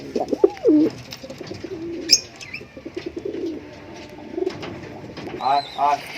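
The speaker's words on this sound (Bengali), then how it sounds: "সব পায়রাগুলো সব ছাড়া হচ্ছে" Fancy pigeons in a loft give repeated soft, throaty coos close by, with a few brief chirps and light rustling between the calls.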